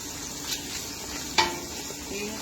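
White pasta sauce with bouillon cubes gets stirred in a pan: a faint steady sizzle with soft scraping and a couple of sharp utensil clinks against the pan.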